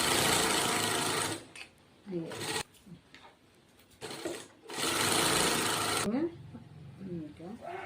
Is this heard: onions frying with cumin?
no